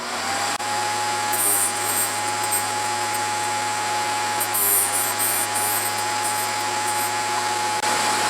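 A drill bit being sharpened on a Vevor grinding wheel with a built-in light, giving a steady high whirring motor whine with a sustained tone, punctuated by brief brighter grinding bursts, close and continuous without talk.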